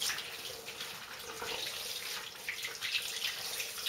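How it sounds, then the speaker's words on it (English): A shaving brush is rinsed under running tap water at a sink, giving a steady close splashing rush with no voices. "Now the brush, I simply do with water like this."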